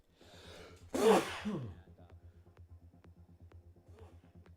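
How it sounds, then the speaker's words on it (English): A single sharp sneeze with an audible intake before it, followed by quiet breathing over a low rhythmic background hum. "just one sneeze"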